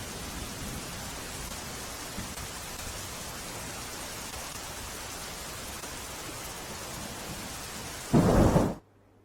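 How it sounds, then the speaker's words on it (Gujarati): Heavy rain pours steadily across the border areas of Banaskantha district, with thunder building into a loud, close rumble near the end before the sound suddenly cuts off. "વહેલી સવારથી વરસાદી માહોલ જામ્યો છે"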